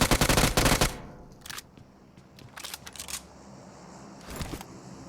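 Bursts of automatic gunfire in PUBG Mobile: a dense opening volley, then several short separated bursts, loud and sharp, with no talk over them.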